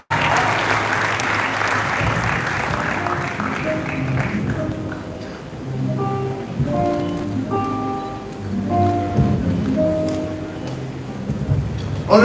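Audience at an entrepreneurs' celebration giving a round of applause, loud continuous clapping in the first few seconds that fades under music and a voice speaking over a sound system.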